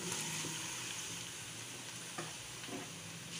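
Chicken pieces fry in oil with garlic ginger paste, a continuous bright sizzle with a few stirring clatters of a spoon, steady and close.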